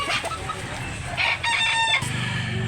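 Gamefowl rooster at a Cebu sale crowing nearby, one full loud crow cutting through a busy farmyard with other birds clucking around it.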